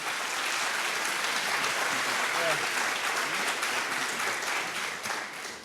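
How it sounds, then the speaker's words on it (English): A school audience applauds a student presenter at a high school mentoring program event, a dense, steady wash of clapping from many hands that holds at full strength for several seconds before starting to taper off, with no voices heard over it. "Let's give him a round of applause, please."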